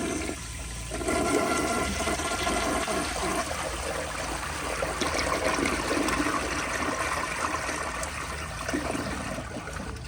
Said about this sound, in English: here's another flush with the pressure turned up higher